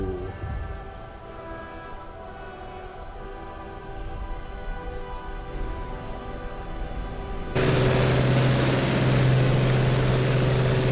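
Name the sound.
WW2 Luftwaffe aircraft propeller planes flying in, from a video game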